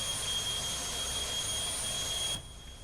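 A steady, even jet engine whine with a high tonal hum comes from simulated aircraft engines taxiing in a flight simulator game, holding constant until the sound drops sharply near the end.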